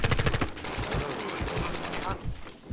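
Rapid automatic gunfire in Modern Warfare 2, a fast loud stream of shots through most of the stretch with a brief lull, and a voice speaking underneath at times.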